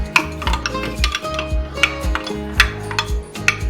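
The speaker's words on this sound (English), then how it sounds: "Stir that up." Ingredients stirred in a bowl with a spoon, giving a steady run of light clinks and taps at a regular pace, with a faint tonal background underneath.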